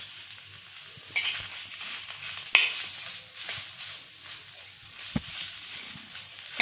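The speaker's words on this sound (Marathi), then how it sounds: "कांदा आपल्याला लालसर भाजून घ्यायचा आहे." Onions frying in oil for a chicken curry: a soft, steady sizzle with a few brief scraping stirs of the spoon against the pan, fairly faint and with no voices.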